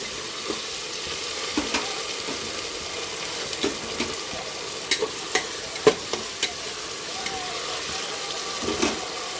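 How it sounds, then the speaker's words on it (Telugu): Potato biryani ingredients frying in a pan give a steady close sizzle, with light scraping taps as a spoon stirs them at irregular moments. "నేనైతే కొంచెం సేపు ఫ్రై చేసుకున్నానండి."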